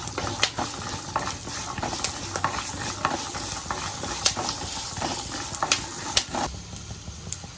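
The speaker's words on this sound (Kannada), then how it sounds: "ಹಸಿಮೆಣ್ಸಿಕಾಯಿ ಚೆನ್ನಾಗಿ ಫ್ರೈ ಆಗಿದೆ" Urad dal, chana dal and green chillies fry in hot oil in a pan for mango chitranna, giving a steady close sizzle with frequent sharp scrapes and clicks of stirring throughout.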